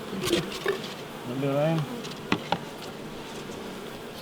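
Honey bees buzz in a low, continuous drone close by as they are shaken into a hive during winter feeding, with handling clatter and a brief spoken word.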